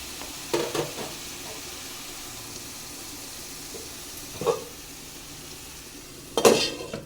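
Chicken curry stir-fried in a pan, a soft steady sizzle broken by three louder scrapes and clatters of a spatula against the pan, alone without talk.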